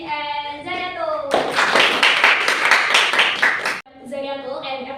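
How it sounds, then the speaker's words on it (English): A short burst of class applause for two students presenting on ecosystems, a few seconds of close, fairly loud hand clapping set between stretches of a speaking voice. "give applause to Emily and Zayatul"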